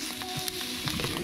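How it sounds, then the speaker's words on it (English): Ham sizzles in butter in a pan while cooking aboard a boat, a soft steady crackle with small pops, close and moderately quiet. "So we're just frying up the ham."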